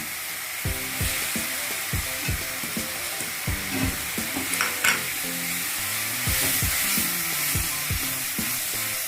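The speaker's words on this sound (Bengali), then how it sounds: "এবার মশলাটা ভালোভাবে কষে নেব" Ground coriander, cumin and turmeric fry and get stirred in a pan for restaurant-style palak paneer, a steady sizzle punctuated by repeated clinks and scrapes of the spoon against the pan, close and clear.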